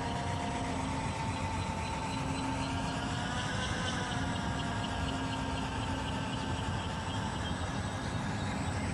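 A small electric motor on a samara monocopter runs at reduced throttle, making a steady, continuous whirring hum with no breaks.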